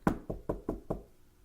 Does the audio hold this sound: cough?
no